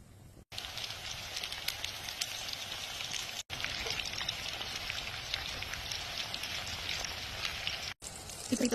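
Breaded tofu coated in egg and breadcrumbs frying in oil, a steady dense crackling sizzle running throughout at close range, with brief cuts in the sound and no talk.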